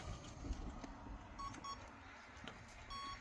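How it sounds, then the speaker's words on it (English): A few short, thin electronic beeps come from the power switch of an FMS FCX10 Camel Trophy Range Rover RC car, faint and spaced apart against a quiet room hum. "I know the switch beeps now"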